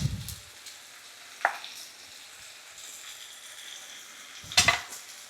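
Tuna packed in oil goes into a frying pan after white wine has cooked off, in a creamy pumpkin dish. A quiet, steady sizzle runs throughout, with a couple of short clinks or scrapes near the start and again near the end.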